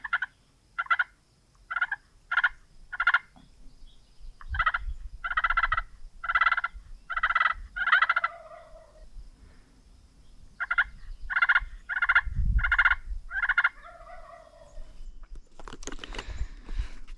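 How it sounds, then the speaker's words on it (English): Wild turkey gobbles in Montana public-land woods come in rapid bursts, several rolling calls in a row, then a pause and another series, carrying clearly through quiet woods. "This turkey he must have a hen with him because he's just not wanting to come up here."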